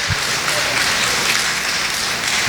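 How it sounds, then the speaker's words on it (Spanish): Steady, dense applause fills a Spanish-speaking church as the congregation claps for the people who helped with the music, continuous and fairly loud throughout. "démele un aplauso a la gente que nos ayudó hoy en la música"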